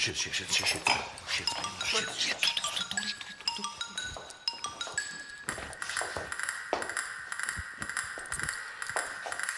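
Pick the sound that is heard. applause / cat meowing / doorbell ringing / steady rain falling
doorbell ringing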